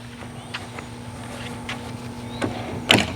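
A locking caster wheel on a rolling work and storage bench is pressed into its lock, giving a single sharp click near the end after a low, steady background hum.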